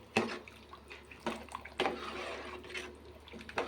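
A cooking pot being stirred: close, wet sloshing and scraping in irregular strokes, several distinct swirls of liquid, no talk.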